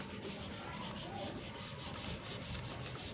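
Cotton cloth rubbed steadily over a dirty metal door handle, giving a continuous close scratchy rubbing with no talk.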